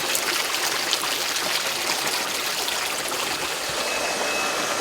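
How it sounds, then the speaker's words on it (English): Steady rushing flow of water from a garden hose filling a hot tub damaged by freezing, with broken manifolds, continuous and fairly loud throughout with no talking. "So I'm going to start the water in it right here,"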